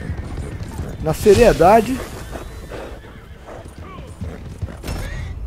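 A Norfolk Roadster horse in Red Dead Online gives one loud, close whinny early on, and hooves clip-clop as it runs, with someone talking over the action.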